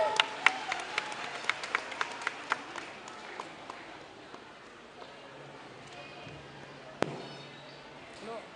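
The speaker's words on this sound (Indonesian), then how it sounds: "Berikan tepuk tangan yang meriah sekali lagi teman-teman" After a performance at a West Sumatra arts and culture gathering, an audience gives scattered rhythmic clapping that starts with distinct claps and softens into a faint background patter, with a sharp knock near the end.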